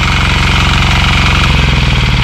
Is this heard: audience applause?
no